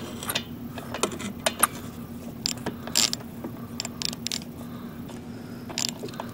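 Ratcheting socket wrench, 13 millimeter, snugging a bolt on a lawn mower carburetor, giving repeated close clicking and mechanical ratchet sounds over a steady low hum.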